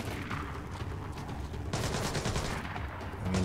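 Continuous gunfire in the stealth video game Splinter Cell Blacklist, a dense unbroken stretch of shots and rumble that grows slightly heavier midway, loud and steady.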